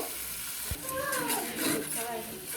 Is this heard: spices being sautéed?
yes